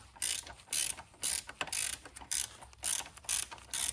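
Ratchet wrench clicking in repeated bursts while tightening parts on a Yamaha Raptor 250 ATV during a shock, arm, nerf bar and bumper install; close, crisp pawl clicks in about eight quick strokes with short pauses between.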